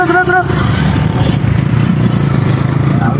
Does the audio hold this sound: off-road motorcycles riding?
yes